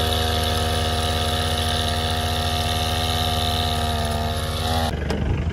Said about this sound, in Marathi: फवारायला ते चालू आहे, ट्रॅक्टर चालू आहेत शेतामध्ये